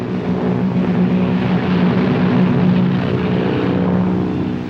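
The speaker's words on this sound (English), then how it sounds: "Overhead, a screen of fighter planes formed a protective umbrella." Propeller fighter planes drone steadily overhead as a protective screen above a beach landing, a continuous loud engine roar with a low harmonic hum that swells slightly mid-way and holds without break.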